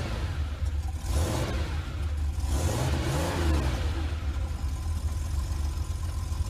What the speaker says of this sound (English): Now let's imagine you're in a sports car.